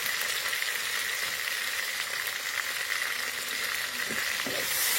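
Ground spices frying in a pan with garlic, onion and ginger paste, a steady, close hiss and sizzle with faint scraping from stirring, continuous throughout.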